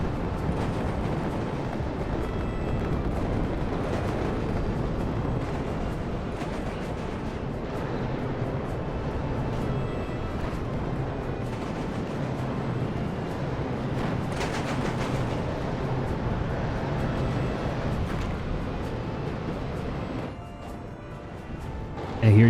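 Bomber airstrike in the WARNO strategy game, a dense continuous roar of overlapping explosions and rumbling blasts sustained throughout, loud and unbroken, easing slightly near the end before a final burst.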